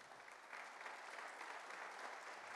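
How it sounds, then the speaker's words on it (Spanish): Church congregation applauding during a Spanish-language sermon, a steady wash of clapping from many hands, moderately distant and fairly soft, with no talk over it. "Dese un aplauso."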